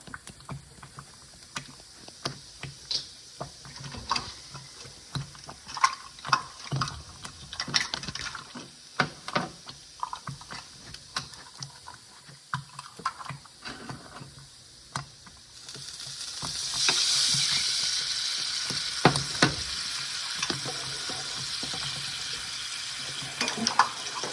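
About a quarter cup of leftover potato water poured into a pan of frying chicken: scattered stirring scrapes and light sizzle, then a louder burst of hissing sizzle when the water hits the hot pan, continuing to the end.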